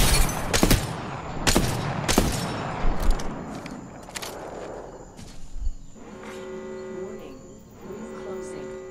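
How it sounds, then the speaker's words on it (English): Several sharp gunshots ring out in a hunting video game, fired as a warning shot, coming in quick irregular bursts over the first few seconds and then fading into a low steady hum with faint game ambience. "Here's a warning shot."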